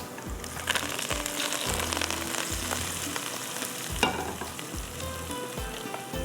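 Oil and tamarind juice sizzle and fry in a pot of degi chicken qorma, a steady close crackle broken by several low thuds of a spoon stirring through the mix.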